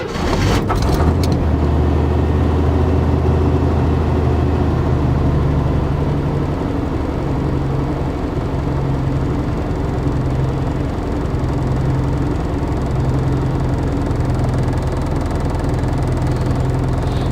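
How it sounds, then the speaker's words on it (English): Cold inline six-cylinder car engine idling rough and rich in sub-zero weather, missing on one cylinder, a steady close low rumble with an uneven throb throughout, no talk. "You can feel the engine still missing a little bit on one cylinder"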